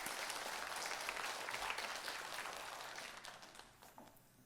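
A church congregation at a Thursday women's worship service applauds to welcome a visiting pastor, dense steady clapping that gradually thins and fades toward the end.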